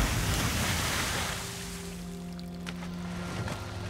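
A tap runs in a bathroom in the horror video game Layers of Fear 2, giving a steady rushing hiss that softens partway through, with faint low hums beneath.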